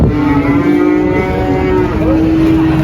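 A newly arrived Limousin bull at Muntilan cattle market lets out one long, loud, close moo that holds steady for nearly three seconds over a busy market background.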